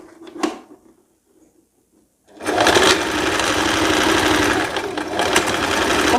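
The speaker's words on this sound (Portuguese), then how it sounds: "Vai passar na máquina, costurando a parte entre a cintura e o corpinho." Sewing machine stitching the seam between the waist and bodice of a dress, starting after a near-silent pause with a few light clicks, then running steadily and loudly with a fast rhythmic chatter.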